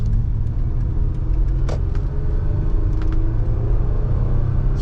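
A 2013 Toyota Sienna XLE Premium minivan with a 3.5 liter V6 cruises on the road, heard from inside as a steady, loud low rumble with road noise and a few faint clicks.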